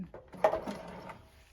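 A sewing machine stitches a button onto fabric in a short, brief run of a few mechanical clicks and whirs, close and fairly quiet.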